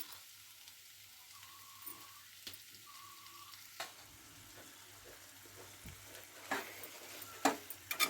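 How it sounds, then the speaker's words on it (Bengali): Minced meat and potatoes stirred in a pan, with a faint, steady sizzle under soft scraping and a few sharp clicks of a utensil against the pan. "আমি আলুর সঙ্গে ভালো করে কিমাটা নেড়ে চেড়ে নিচ্ছি"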